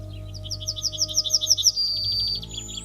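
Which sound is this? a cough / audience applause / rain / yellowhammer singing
yellowhammer singing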